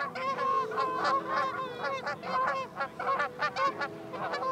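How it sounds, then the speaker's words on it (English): Flock of geese honking at sunrise at Oxbow Bend in Grand Teton country, a steady chorus of overlapping loud calls close by and continuing throughout. "Hear them? Morning geese."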